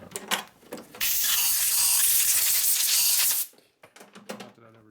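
A can of heavy duty cleaner sprays in one steady, loud, hissing burst of about two and a half seconds, with brief talk just before and after it.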